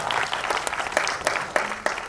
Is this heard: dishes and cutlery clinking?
no